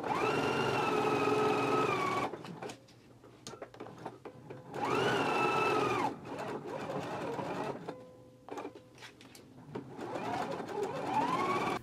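A sewing machine sews a dress seam with a regular machine stitch on a McCall's 7922 dress; loud, humming runs of stitching alternate with quieter gaps filled with light rustling and clicks, and no one speaks.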